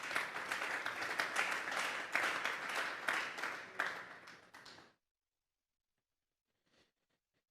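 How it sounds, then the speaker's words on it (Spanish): Congregation applause at a Sunday church service: about five seconds of fairly faint, dense clapping with uneven swells that fades out into silence. "Vamos a darle un fuerte aplauso pues al Señor."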